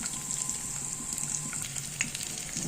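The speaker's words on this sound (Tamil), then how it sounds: "வடகம் நல்லா பொரியட்டும்." Vadagam frying in hot oil with cumin, fenugreek and chana dal, a steady close crackling sizzle with tiny pops throughout, no talk.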